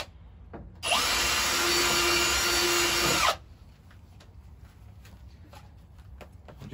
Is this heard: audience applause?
no